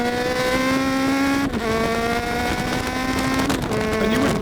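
A loud GTR1400 motorcycle engine with 134,000 miles drones steadily close up on the Oulton Park track, its pitch dropping and dipping between gear changes as it slows under engine braking.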